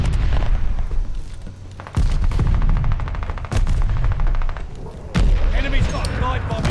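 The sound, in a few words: artillery shells falling and exploding in a video game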